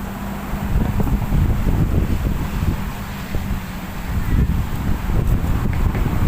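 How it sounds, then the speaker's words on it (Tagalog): Steady wind rushes and buffets the microphone throughout on the Manila baywalk, a loud low rumble with no voices. "hangin ayan"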